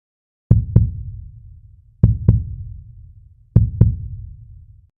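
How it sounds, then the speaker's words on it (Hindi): Heartbeat sound effect: three paired lub-dub thumps, deep and booming with a lingering low rumble, spaced evenly about one and a half seconds apart with silence between. "अपने दिल की धड़कनों को सुनो"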